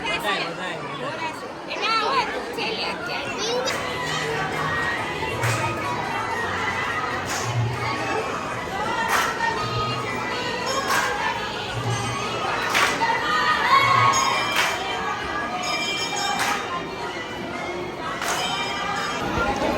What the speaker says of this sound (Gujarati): ભીડ બહુ છે